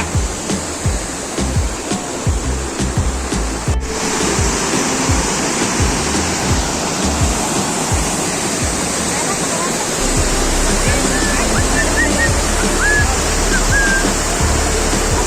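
Parola waterfall near Hingoli roars with steady, loud broadband rushing water that fills the whole span, with a brief cut early on and faint voices of people nearby under the constant flow.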